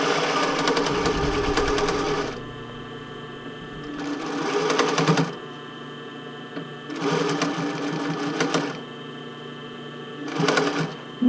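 Sewing machine stitching a bra fitting band: a loud, fast mechanical whir runs in four bursts of a few seconds each, separated by short pauses, close by.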